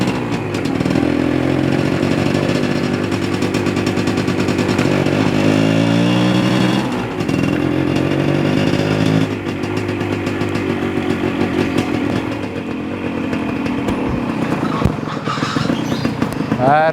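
A Suzuki TS 125 motorcycle engine, freshly serviced with new oil, runs loud and close, a throbbing idle that rises in short revs and settles back, sustained throughout.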